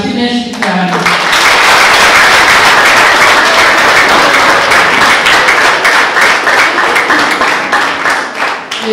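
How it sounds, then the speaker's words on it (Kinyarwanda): A crowd of villagers at a Umuganura harvest celebration in Gisozi claps loudly and continuously for arriving guests, dense sustained applause that swells early and slowly tapers. "tubakomera amashyi menshi cyane"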